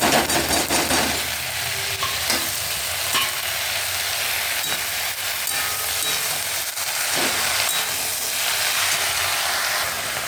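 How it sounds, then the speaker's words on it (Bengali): Chopped jute leaves frying in a pan with onion, garlic and chili give a loud, steady sizzle with hissing steam and occasional stirring scrapes, close up and with no talking. "ভাজাটার মধ্যে এবার এই পাট শাক কুচি ধুয়ে রাখা এটা দিয়ে দিলাম।"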